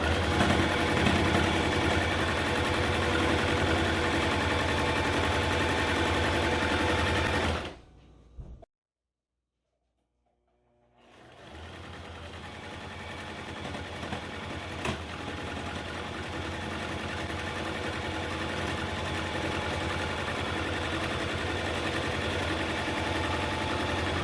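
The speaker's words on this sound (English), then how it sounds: "Then we're going to take it and sew down the sides." A sewing machine stitches down the sides of a homemade fabric face mask, running in a steady loud mechanical whir that cuts out completely for a few seconds, then resumes and continues evenly to the end.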